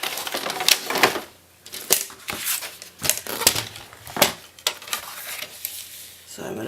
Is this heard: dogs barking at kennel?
no